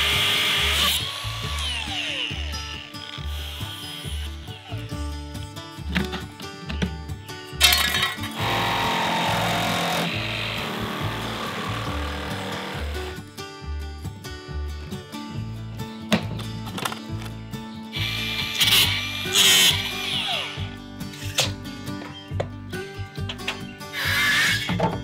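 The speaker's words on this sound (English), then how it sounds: "I'm going to get my grinder out." Angle grinder cutting metal away from an old pig feeder, a loud, continuous rough roar with repeated pulsing bursts and brief pauses, running throughout with no talk.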